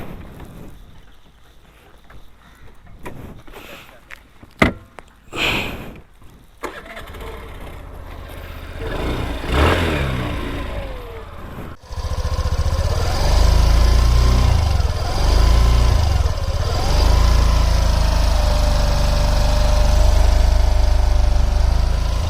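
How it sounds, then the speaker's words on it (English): A 2022 Suzuki Avenis 125 scooter starts after some handling clicks and knocks, then settles into a steady, smooth, close exhaust idle with a low continuous drone. "let's listen to the exhaust note of the scooter"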